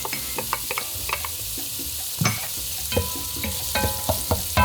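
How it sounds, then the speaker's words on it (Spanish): A Cuban chicken ropa vieja sofrito of softened peppers and diced tomatoes cooks in a pan, a gentle sizzle under repeated close clinks and scrapes of a utensil stirring against the pan. "así está nuestro sofrito, va cocinándose"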